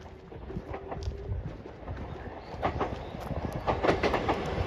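A JR 313 series 1700 local train passing on the Iida Line, rumbling in from a distance and growing louder with rhythmic wheel clicks over the rail joints as it nears.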